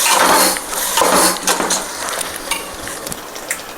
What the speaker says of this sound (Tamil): நம்ம கிளறிடலாம்.